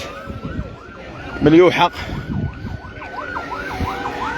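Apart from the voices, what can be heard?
ambulance siren of the OCP phosphate office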